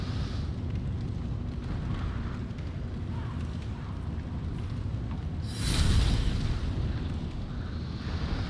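Fire bombs in the video game Demon's Souls give a rumbling, roaring blast, with a louder burst near the middle over a continuous low game rumble, while someone talks faintly beneath.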